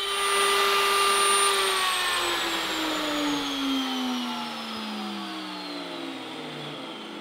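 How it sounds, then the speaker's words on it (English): A CNC router finishing a part with a dust collector running, a steady loud whirring hum with the motor pitch sliding downward as it spins down, continuous and without talk. "Turn off the dust collector."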